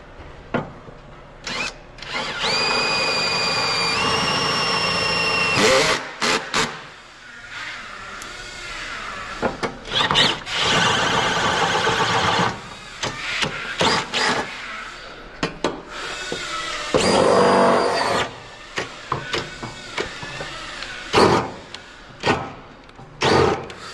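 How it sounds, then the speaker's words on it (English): Power drill boring bolt holes for a running-board step bracket under a 1967–87 Chevy/GMC pickup or K5 Blazer, heard in repeated bursts of whining drilling with pauses and rattling between them, fairly close. "So I'm going to drill these other holes with bolts in."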